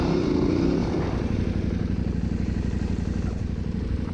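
A Honda CRF 300 Rally motorcycle on a country ride, its engine droning steadily loud and close from the rider's position, with a slight shift in pitch early on as it changes gear.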